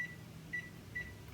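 An oven timer beeps three times at an even pace while being set, short faint electronic tones over a quiet kitchen background.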